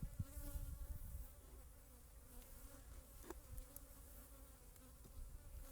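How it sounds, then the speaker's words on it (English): Steady insect buzzing from a wasp hovering near beehives in an apiary, a faint continuous drone with a few passing swells, close by and without talk. "Because it's a wasp."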